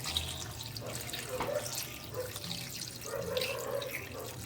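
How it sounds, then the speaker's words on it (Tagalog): Water runs and splashes steadily into a cooking pot of chicken sinigang nearby, a soft continuous pouring with faint bubbling. "Tapos siyempre lagyan na rin mga lods natin yung ating tubig"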